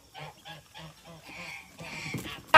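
A farm goose honks in a quick run of about six evenly spaced calls, loud and close, then gives a few rougher, longer honks before a sharp noise at the end.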